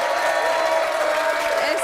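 A studio audience on a French makeover talk show applauds in a steady, dense wash of clapping that lasts about two seconds.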